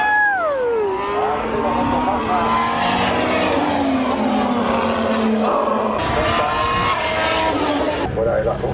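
Formula 1 cars race past at the Spanish Grand Prix on a slippery track, engines screaming loud and near with falling pitch sweeps as they pass, under a constant din of crowd and excited talk.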